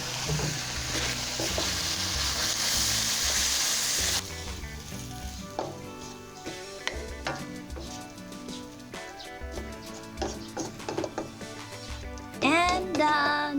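Thai basil pork, pad kra pao, sizzles and fries in a hot pan, a loud hissing burst at first that settles into stirring scrapes and clatters, with a sharp spatula clink near the end.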